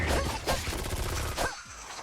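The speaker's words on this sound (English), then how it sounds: "these guys will just pop up and shoot you from a distance" Distant enemies opening fire in the action video game Devil May Cry: Peak of Combat, a dense, rapid volley of gunshots with sharp impacts and whooshes, loud and continuous before cutting off abruptly.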